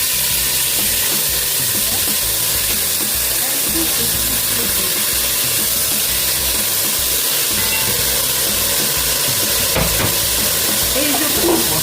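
Water poured into a hot pan of chicken with vegetables and potatoes, sizzling and hissing steadily and loudly, close up, with a brief sharper crackle near the end.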